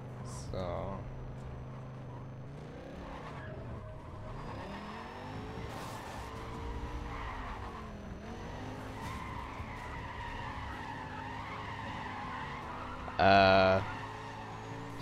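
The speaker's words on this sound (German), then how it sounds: "irgendwie kriege ich gerade keinen richtigen Donut hin" Tires squeal and skid as a car spins through attempted donuts in the racing game Need for Speed World, with a droning engine under the screech and a sharp burst near the end; someone talks over it.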